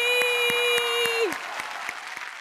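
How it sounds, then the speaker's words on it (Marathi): A television studio audience applauds in a steady patter of claps while a sustained musical tone plays and then cuts off partway through, leaving the clapping to carry on a little quieter. "एकदा जोरदार टाळ्या सगळ्यांसाठी."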